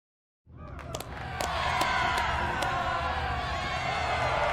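Arena crowd in a video game set in the Star Wars world of Voss, a dense roar of cheering and whoops rising quickly after a brief silence and holding steady and loud, with sharp shouts breaking through.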